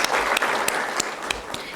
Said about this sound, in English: a big round of applause for Honorable Founder Father, President and Managing Trustee,